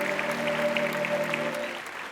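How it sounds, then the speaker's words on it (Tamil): A TV singing competition's studio audience claps for a young performer, a short burst of dense applause over a sustained musical tone that fades slightly at the end. "அவங்களுக்காக ஒரு பெரிய கைத்தட்டல் எவ்ரிபடி"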